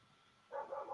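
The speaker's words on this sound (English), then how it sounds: "What were they even barking at? They're still barking." Several household dogs in Mexico break into barking partway through, a sudden burst of close, fairly loud yaps that carries on to the end after a quiet start.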